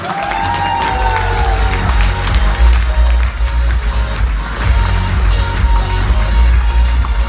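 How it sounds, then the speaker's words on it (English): Audience at a business seminar applauding and cheering after a talk, a dense, steady wash of clapping with crowd noise and a few voices mixed in throughout. "a big round of applause for Jeffrey"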